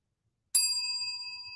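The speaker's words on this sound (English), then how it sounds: "you get a bell for that." A single bright bell ding sound effect rings out after a moment of silence, its clear metallic tone sustaining and slowly fading.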